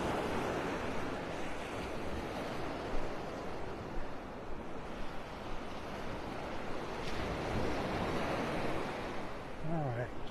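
Ocean surf on a mile-long beach at Vanderbilt Beach in North Naples, Florida, a steady broad wash of waves with wind buffeting the microphone and a brief voice near the end.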